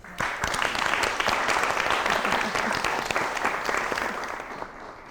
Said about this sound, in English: let's give a round of applause to both of our nominees